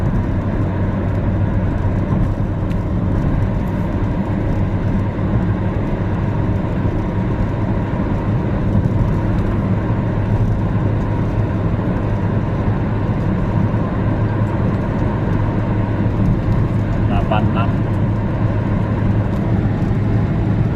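Steady cabin rumble inside a Ford EcoSport cruising at about 100 km/h on an empty road at night; broad, even road and engine drone fills the whole stretch with no breaks and no talking.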